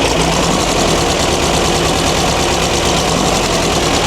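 A Volkswagen Baja Buggy with a 2.0 engine idling after carburetor adjustment, a loud, steady, close-up rumble with strong vibration and no pauses.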